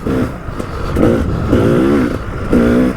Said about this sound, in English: So this is the FMF that we're hearing right now.